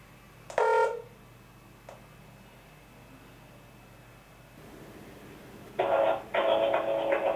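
A videophone at a medical centre is set up and dialed. A short bright electronic tone is followed by a faint click, then a quiet hiss, then two louder buzzing tones close together near the end.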